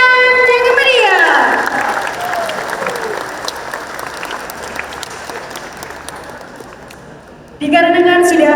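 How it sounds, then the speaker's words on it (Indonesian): A theatre audience at an academic stage performance applauds loudly, the clapping fading gradually over several seconds before a voice speaks over the tail of it. "Sekali lagi beri tepuk tangan yang meriah."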